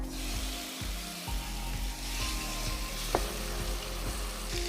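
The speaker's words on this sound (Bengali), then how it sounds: "এখন হচ্ছে মেরিনেটেড যে প্রনসগুলো ছিল সেটা দিয়ে দিচ্ছি" Marinated prawns fry in a hot pan over medium-low heat. A steady, close sizzle runs throughout over a low, pulsing hum, with a brief sharp click near the middle.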